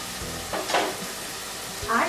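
Turmeric, red chili, cumin and coriander powders are stir-fried with onion paste in a pan for a raw banana curry. A low sizzle sits under two short bursts of spoon scraping and stirring.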